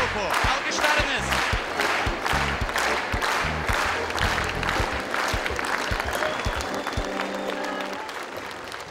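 An audience at a Baku concert applauds a band, loud clapping and crowd noise over a thumping beat of music, with a voice cutting in near the end.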